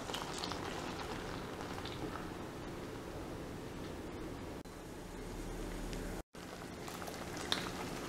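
Sago pearls simmer in water with ground green chili, giving off a continuous soft bubbling and popping at close range, with no voices over it.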